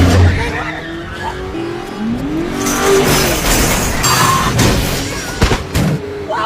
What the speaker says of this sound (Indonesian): Keduanya pun berhasil turun ke parkiran dan bergegas kabur menggunakan mobil.